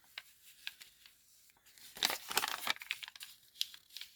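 Paper being torn by hand for a junk journal card, a few quiet crinkles followed by a louder burst of ripping and scattered tearing sounds, close and alone.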